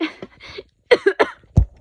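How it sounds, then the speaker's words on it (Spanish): A few short coughs mixed with breathy laughter, close and fairly loud, ending in a low throaty burst. "Me dio tos con risa"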